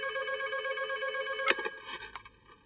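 A telephone rings at a hostel, a steady electronic ringing tone, fairly faint, with a couple of short clicks or knocks partway through and no speech.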